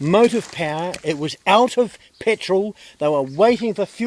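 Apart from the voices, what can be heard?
No everyday noises stand out.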